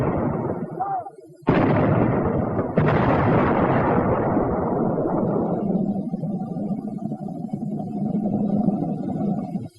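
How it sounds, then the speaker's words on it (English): A WWII US Army howitzer high-explosive shell bursts with two loud, sudden booms a second apart, followed by a long rumbling roar that slowly fades. Faint sound is audible before the first blast. "Here are the 2 whoppers the howitzer pounds out."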